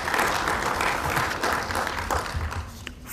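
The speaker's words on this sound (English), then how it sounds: "So can we applaud Dr. Mayaki" A crowd at a high-level conference on food and nutrition security applauds, the continuous clapping moderately loud and fairly even, tapering slightly toward the end.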